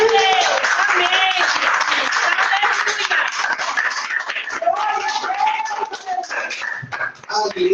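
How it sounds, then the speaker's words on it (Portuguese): A church congregation claps together in a sustained round of applause, steady and full throughout, with voices calling out over the clapping. "Vamos dar uma salva de palmas"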